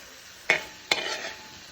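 Two quick scraping stirs of a spoon through chicken curry cooking in a covered pan, each a short sharp stroke followed by a soft simmering sizzle, close and clear with no talking.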